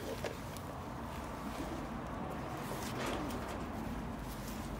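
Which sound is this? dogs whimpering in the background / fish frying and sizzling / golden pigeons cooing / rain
golden pigeons cooing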